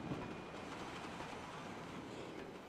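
Train rolling along rail tracks, a steady loud rumble with faint wheel clatter and a thin high squeal throughout, no talk.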